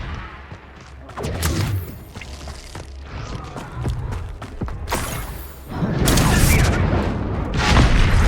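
Confringo fire spell blasts from Hogwarts Legacy, heavy booming explosions with rumbling debris, several dull thuds early on, then a louder sustained roar of blasts toward the end.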